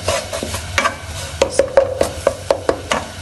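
Semolina roasting in a pan for halwa on low to medium heat, with a spoon scraping and stirring in steady repeated strokes over a faint continuous sizzle, close and fairly loud.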